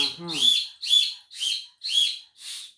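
A toy whistle blown in five quick, evenly spaced shrill bursts, each a short warbling chirp, close and clear with a brief voice at the very start.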